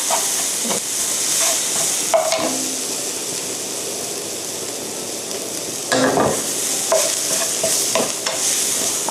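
Japanese curry roux being stir-fried in a pan until it melts, with a steady close sizzle and hiss broken by a few louder bursts of stirring and scraping.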